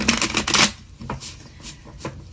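Quick riffling bursts of tarot cards being shuffled close up, a dense flurry followed by a few lighter taps and slides.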